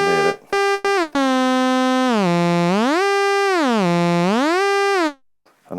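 Oscillator 2 of a Moog Minimoog Model D plays a loud, buzzy tone under frequency modulation, its pitch swooping smoothly up and down in slow waves. A few short choppy bursts come first and the tone cuts off near the end.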